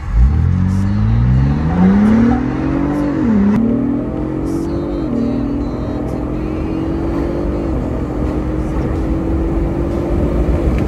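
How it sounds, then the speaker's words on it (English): A 2022 Ford Bronco Raptor in sport mode accelerates hard, its engine note climbing, dipping briefly at a shift, then pulling strongly and steadily, loud and close. "I'm going to do a quick little acceleration run on the 2022 Ford Bronco Raptor"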